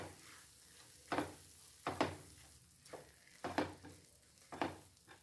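Sweet bread mixture with desiccated coconut is stirred in a pan, giving a run of separate scraping, sizzling strokes at an uneven, unhurried pace, close by and fairly soft, with no voices.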